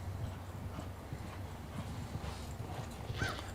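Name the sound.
racehorse hooves clip-clopping at training center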